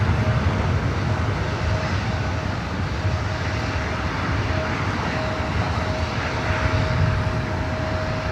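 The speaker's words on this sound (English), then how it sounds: "This flight heading to San Jose, California, Delta Connection Flight 3911. It's E175." Continuous jet engine roar from a Delta Connection Embraer E175 at LAX, fairly loud and even throughout, with a thin steady whine above the broad rumble and no speech.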